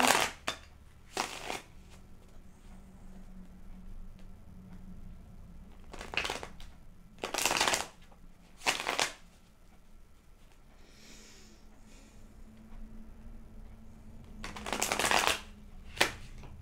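Tarot cards are riffled and shuffled in several short bursts separated by quiet pauses, close and crisp.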